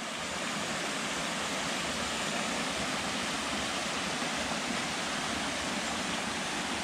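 Steady, dense rush of a river flowing through forest along a trail near Muros, Galicia, continuous and even throughout with no voices.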